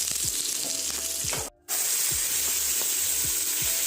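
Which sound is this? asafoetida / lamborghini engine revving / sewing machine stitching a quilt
asafoetida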